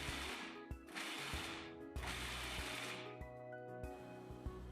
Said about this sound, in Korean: 여기에 잘라둔 데이츠를 넣고 데이츠가 잘 섞이도록 살짝 갈아주세요.